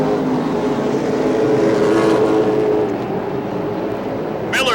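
Late-model race cars battling side by side on the Rockford oval, a loud blended engine roar that swells and then eases off, with a sharp burst of noise at the very end.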